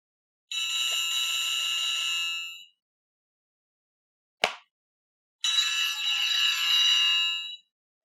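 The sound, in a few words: phone ringing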